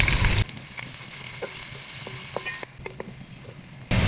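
Finely chopped onion fries in a pan toward golden brown for a green chana pulao, a steady hiss of sizzling oil that is loud at the start and end and quieter in between, with faint stirring.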